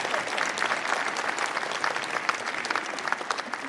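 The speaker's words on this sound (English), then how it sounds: "Let's give them a round of applause again," Congregation applauding prayer practitioners standing during a church service; continuous clapping from a mid-sized crowd with distinct sharp claps, fairly even and unbroken throughout.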